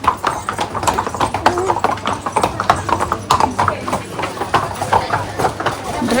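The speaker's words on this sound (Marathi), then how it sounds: "बापरे किती घोडे येतात इथून." Hooves of several horses clip-clop in an uneven walking rhythm along a market road in the hill town of Matheran, close by and fairly loud, with people chatting over the steady clatter.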